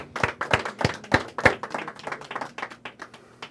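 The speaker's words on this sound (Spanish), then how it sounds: "Un aplauso al Eterno," A congregation at a religious service applauds, with sharp, loud, distinct claps that are irregular and close at first, then thin into softer, scattered claps as the applause dies away.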